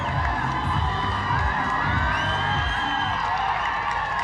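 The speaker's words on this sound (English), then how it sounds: "And look at them cheering." Spectators cheer at a SWAT challenge competition for police special forces in Dubai, a loud, steady wash of crowd cheering with whoops and excited shouts that carries on without a break.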